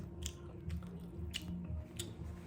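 Someone chews a Thai quail egg snack, khanom khai nok krata, close up. The chewing is soft and moist, with rhythmic squishy bites repeating over a quiet background.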